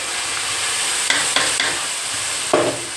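Tomatoes are added to chillies frying in a pan, with a soft, constant sizzle and a few sharp stirring scrapes that stand out from the hiss.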